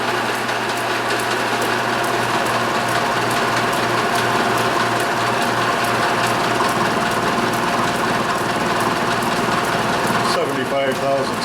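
Metal lathe taking an interrupted cut on a cane mill part, producing a steady machining drone with a fast, regular knocking pulse from the broken cut throughout, loud and close.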